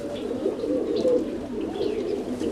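A silver dun roller pigeon coos softly nearby, a low continuous burbling with a few faint chirps from other birds.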